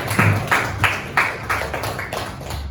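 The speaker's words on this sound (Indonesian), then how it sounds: "Tepuk tangan untuk kalian." Students in a classroom clapping in unison, about eight sharp, evenly spaced claps, close and fairly loud, with no talking.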